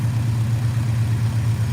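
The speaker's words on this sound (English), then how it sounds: "that's the sound of all 4 of them injectors in that sniper banging off" Idling engine fitted with a four-injector Holley Sniper throttle body, a steady low rumble carrying a faint fast ticking of the fuel injectors, close and continuous with no talk.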